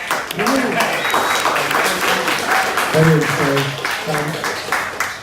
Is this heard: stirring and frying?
no